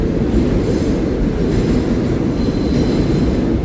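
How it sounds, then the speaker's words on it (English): A southbound New York City subway train rumbles steadily along the tracks nearby, a continuous loud roar with faint metallic squeals and no voices. "That's the train coming southbound. I can hear it now."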